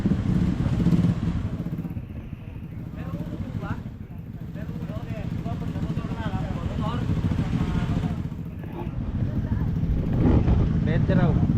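Motorcycles and cars idle in a queue at the entrance of Monasterio de Tarlac. A steady engine rumble sits close by with some clatter, while people talk over it.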